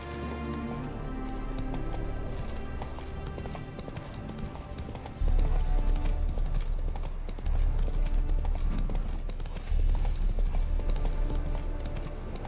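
A horse gallops in the video game The Witcher 3, its hooves clip-clopping in a fast, steady rhythm. The hoofbeats stay loud and close over a continuous low game ambience.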